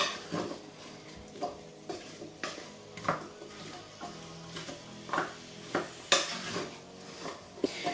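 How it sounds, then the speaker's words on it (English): Diced lamb shoulder is stirred and browned in a pan, a spoon scraping and clinking against the metal in a regular rhythm of sharp knocks over a soft, low sizzle, close and with no one talking. "So all I do is I just mix it all around and get it brown"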